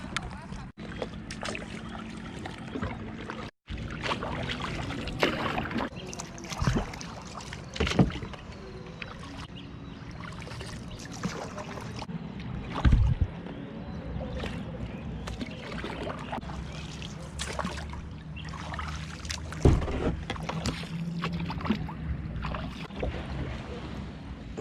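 A kayak paddled on the Bang Nara river in Narathiwat, Thailand: repeated paddle strokes splash and drip close by, with water trickling off the blade and occasional knocks on the hull while voices talk faintly.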